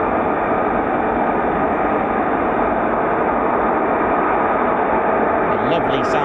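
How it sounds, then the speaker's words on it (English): F-35B stealth jets with Rolls-Royce-linked engines spooling up at a busy military airfield, a loud steady broadband roar filling the scene without letup, with a commentator's voice talking over it. "The lovely sound that they're producing on the spooling."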